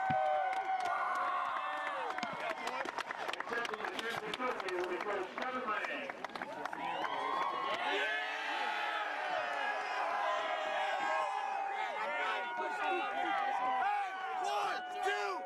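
A crowd cheers, whoops and claps in an excited, noisy jumble as a district championship game trophy is presented to a school team after a playoff game, with voices shouting and talking throughout.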